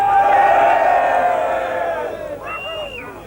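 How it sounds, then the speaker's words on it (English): Crowd at a 1989 Bug Jam drag racing event cheering and whooping, loud and close at first and then fading, with a few voices shouting out near the end. "Come on, a round of applause for Debbie!"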